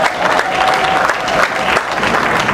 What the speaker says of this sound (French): Est-ce que nous pouvons acclamer ce Dieu?